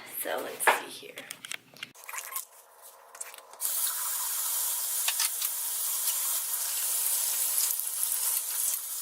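Water runs from a tap while hands are washed, a steady hiss with some rubbing and splashes near the end, following a stretch of talk and handling noise.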